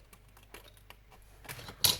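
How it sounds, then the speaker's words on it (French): Scissors cut thin tea bag paper, making a few faint, quick clicks followed by two sharper, crisp snips close up near the end. "là je coupe au ciseau."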